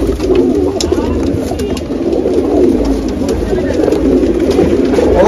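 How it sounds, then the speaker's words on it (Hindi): Steady low cooing from many Punjabi pigeons fills the whole stretch, a dense, constant murmur with no gaps. "एक से एक लाजवाब कबूतर है।"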